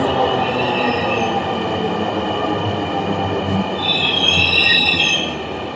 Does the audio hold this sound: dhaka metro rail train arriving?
yes